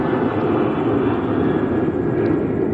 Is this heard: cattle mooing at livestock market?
no